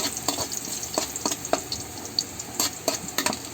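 Garlic sautéing in a pan for ginataang tulingan, with a steady sizzle broken by repeated stirring scrapes and clinks spaced irregularly over a few seconds; no one talks.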